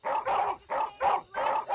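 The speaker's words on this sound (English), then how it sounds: "You are agitating my dogs." Guard dogs barking at midnight at a stranger, four loud, close, sharp barks in a quick, even rhythm with short gaps between.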